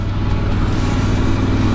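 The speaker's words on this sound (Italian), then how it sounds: "guardate che traffico" Steady road traffic near the city of Ica, Peru, a continuous loud wash of car and truck engines with a low rumble and no clear single pass-by.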